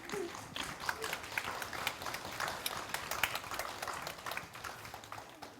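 Audience clapping during a Buddhist monk's dharma talk, a steady, moderately distant wash of applause lasting the whole stretch without a break.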